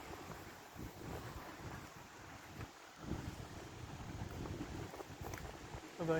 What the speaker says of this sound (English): I think I hear water on the right side too